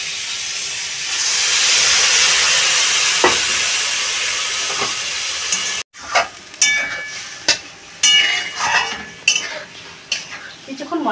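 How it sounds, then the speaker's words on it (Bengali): Ground spice paste sizzles and hisses steadily with chicken in a pan, then after a sudden cut come sharp clinks and scrapes of a spoon stirring against the metal over a fainter sizzle. "কিছুক্ষণ মশলাটা আমি কষিয়ে নেব।"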